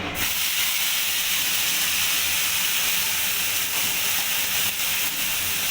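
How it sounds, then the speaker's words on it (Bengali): A loud, dense hiss of a ground spice paste sizzling hard in a hot wok, starting abruptly and holding steady for several seconds. "মিক্সিতে পেস্ট করা মশলাটা এবার আমি কড়াইতে দিয়ে দেবো"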